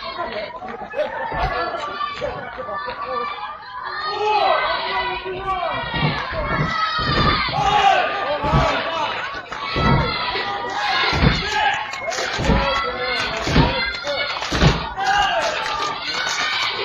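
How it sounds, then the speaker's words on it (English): A wrestling crowd at a televised indoor show buzzes and cheers, with chatter and shouts rising and falling and sharp thuds punctuating the noise. "Crowd coming alive here for Blake Morris."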